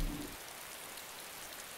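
Rain in the video game DayZ, the ArmA 2 mod, a steady hiss of falling drops heard alone after a brief low thump at the start, soft and continuous.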